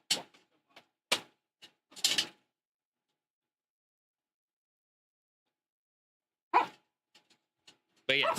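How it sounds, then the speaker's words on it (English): A dog barking indoors in a few sharp, separate bursts near the start and again near the end, with long silent gaps between. "I need to water my dog"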